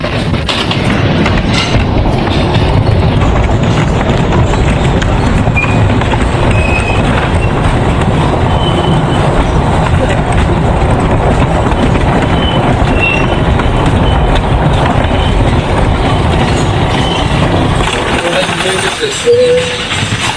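Nicco Park amusement ride starting up and running, a continuous loud rumble with rattling and rail-like clatter throughout, with a voice talking over it.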